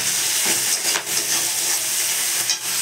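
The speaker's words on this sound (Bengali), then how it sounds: "এবারে দেখতে পাচ্ছ আদা কুড়িয়ে দিয়েছি, ভালো করে আদাটা কষিয়ে নেবো।" Ginger and spices fry hard in a pan for a Bengali chorchori, producing a loud, close, steady hiss with bursts of stirring and sharper spits around the middle and end; nobody speaks.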